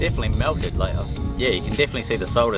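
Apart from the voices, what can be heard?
No distinct noise like a dog, phone or traffic.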